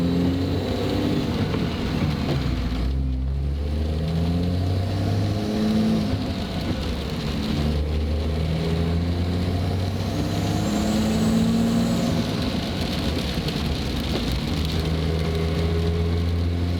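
Truck with a freshly swapped manual transmission on a test drive, its engine droning steadily and shifting pitch as it accelerates through gears, with continuous road and wind noise and no talking.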